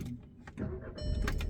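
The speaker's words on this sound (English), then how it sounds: "The car fires up very nicely" A Daytona Grey Audi A1 1.4 TFSI CoD S line Sportback, a petrol manual, starts up with a short starter whirr, then its engine catches into a steady, close idle hum.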